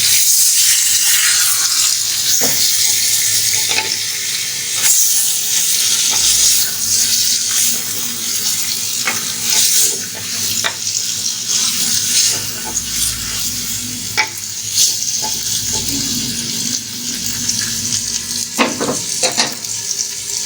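Continuous sizzling of mutton in a pot with repeated scraping and clinking of a spoon stirring, fairly close and busy throughout, no talking.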